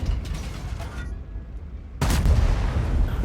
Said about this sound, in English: Only one of those shots lands, unfortunately.